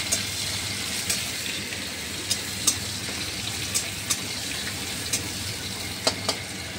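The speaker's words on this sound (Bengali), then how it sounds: "দিয়ে দেবো কুচিয়ে রাখা পেঁয়াজ, দিয়ে একটু ভালো করে পেঁয়াজটাকে ভেজে ভেজে নেব" Chopped onions fry in hot oil alongside cumin seeds and two pieces of bay leaf, a steady close sizzle punctuated by a few sharp crackles and pops, with no voice.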